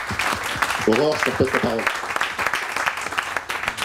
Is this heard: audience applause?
yes